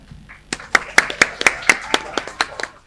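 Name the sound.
audience clapping and cheering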